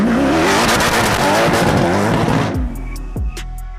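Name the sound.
Koenigsegg CCX doing a burnout, tires squealing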